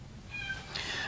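A cat gives a short, fairly quiet meow with a rising pitch, heard close by in a quiet room without any talking over it.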